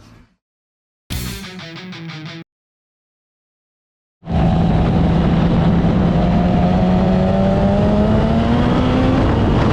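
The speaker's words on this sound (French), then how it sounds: "plus je roule, plus la moto elle marche" Kawasaki ZX10R turbo motorcycle being ridden, loud sustained engine roar with steadily climbing pitch after a brief silence and a short burst of sound.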